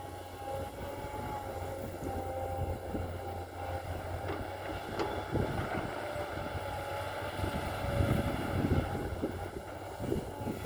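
A Kobelco SK200 excavator with a Mitsubishi turbo direct-injection engine drones steadily while digging sand, its low, continuous engine rumble rising slightly toward the end, with no voices.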